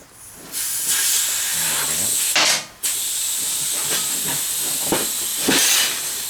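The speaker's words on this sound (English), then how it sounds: "So now we're going to let the air back out of that." Air hisses steadily out of a tire valve stem on a tubeless tire being fitted with a tube, a loud, close rush that breaks off briefly and then resumes.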